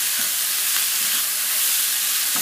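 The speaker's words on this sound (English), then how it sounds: "And we're just going to stir it all up together." Butternut squash and apple sausage being stirred together in a hot pan, giving a steady close sizzle with faint scraping stirs underneath, no voices.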